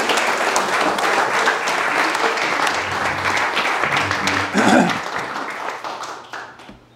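An audience in a lecture hall gives a sustained round of applause welcoming a speaker, dense clapping from a sizable crowd that fades out at the end.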